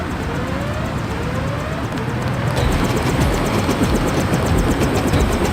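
A helicopter in the video game Deus Ex drones steadily, a loud continuous engine and rotor roar that holds level throughout with no voices.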